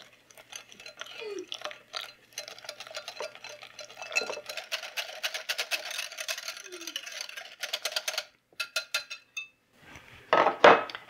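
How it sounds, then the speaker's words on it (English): Evaporated milk being stirred into a pot, a run of quiet rhythmic scraping and clinking against the metal with brief pauses and a louder knock near the end. "We're going to just stir as we add it."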